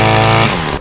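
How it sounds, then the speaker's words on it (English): Engine on a piece of commercial lawncare equipment laboring as it starts, a rough harmonic drone that sputters and fades out within a second, loud and close with no talk. "it struggles a little bit when you first start it."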